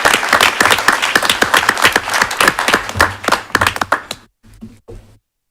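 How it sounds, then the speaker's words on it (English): A commission meeting audience gives a round of applause, dense clapping that fades out near the end with a few last isolated claps. "So if you guys could give a round of applause for Tom Franzen."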